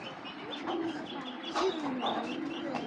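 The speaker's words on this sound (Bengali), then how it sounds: "এটা হলো পাথর চোখের একটা হোয়াইট রেসার মাদি" A pure white racer pigeon hen with pearl eyes coos softly, a few low, throaty rolling calls close by against faint background noise.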